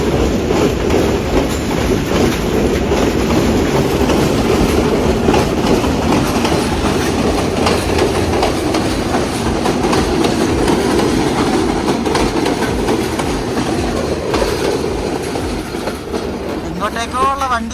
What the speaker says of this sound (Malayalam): നമ്മുടെ വണ്ടി ഇപ്പോൾ ഏകദേശം വിടാറായിട്ടുണ്ട്.